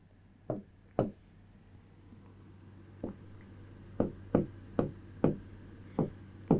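Chalk tapping and scraping on a board during a chemistry lecture, a series of short sharp strokes in uneven rhythm, close and clear against a quiet room hum.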